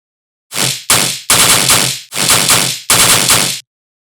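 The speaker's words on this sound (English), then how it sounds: "This is the machine gun bass that we have first." Heavy machine-gun-style bass sound effect in the manner of Marauda: five loud, distorted bursts, each a rapid stutter of punchy hits with abrupt starts and cutoffs, separated by short silences.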